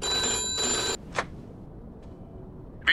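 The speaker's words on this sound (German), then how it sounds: "Aber dann ab ans Telefon." In the video game Mafia II, a telephone bell rings steadily for about a second and then stops, leaving quiet room tone with a couple of brief faint clicks afterward.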